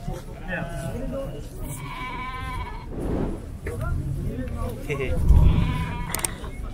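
Sheep and lambs bleat repeatedly nearby at a livestock market in Zharkent, their wavering calls mixed with people talking over a busy, crowded background.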